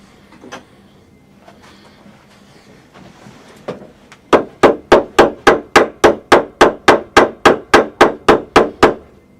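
A hammer strikes tacks into an 1800s sofa frame in a steady, rapid series of about sixteen sharp blows, close and loud, after a few scattered knocks.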